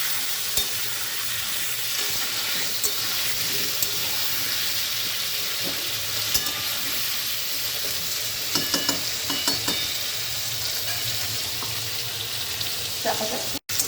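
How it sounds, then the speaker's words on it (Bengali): Potatoes fry in oil with salt and turmeric, a continuous close sizzle broken by spatula clinks and stirring clatter, with a faint running-water sound beneath and no talking. "দিয়ে নেড়ে চাপা দিয়ে ভালো করে ভেজে নেব।"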